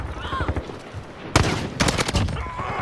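Burst fire from an M16A4 rifle in Call of Duty Modern Warfare, a sharp, loud cluster of rapid shots near the middle followed by another quick burst, over faint background game noise.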